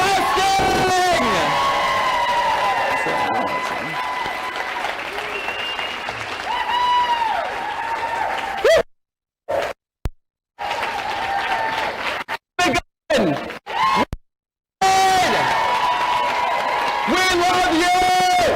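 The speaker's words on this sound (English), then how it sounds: "can I get a round of applause for Right Side Broadcasting?" Applause and cheering fill an outdoor political rally for Texas Independence Day, with whoops and yells over the clapping, several abrupt dropouts in the signal, and voices shouting throughout.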